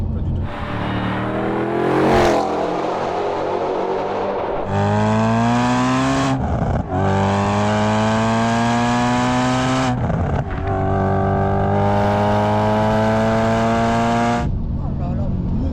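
Supercharged Audi RS4 B7 fitted with an APR kit pulls hard through several gears, its loud engine note climbing in long rising sweeps broken by brief shift gaps, close and continuous with an excited voice occasionally over it.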